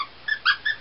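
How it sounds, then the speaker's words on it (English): A squeaky snowman dog toy gives three short high squeaks in quick succession, close by, with the middle squeak loudest. "And a snowman that does squeak."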